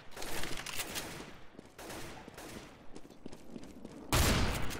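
Gunfire in a CS:GO competitive match on the Nuke map: bursts of shots crackle at moderate volume, with a louder, dense volley near the end.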